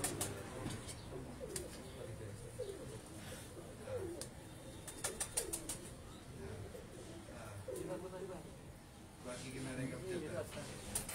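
Pigeons coo repeatedly on a rooftop where pigeon flyers keep their birds, soft rolling calls recurring throughout amid outdoor background noise, with someone talking over them.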